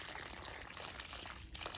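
Water from a developed spring on a farm flows in a steady, continuous trickling stream, quiet and close, with no voices.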